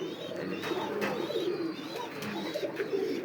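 Pigeons, including a pair of Black German Shields, cooing steadily in a fancy pigeon loft, a soft continuous murmur of overlapping coos close by with no talking.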